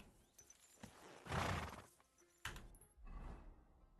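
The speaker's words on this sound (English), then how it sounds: "That's a good horse." A horse in a video game gives a loud whinny, followed by a second shorter neigh, with hoof and movement noises around it and no talking.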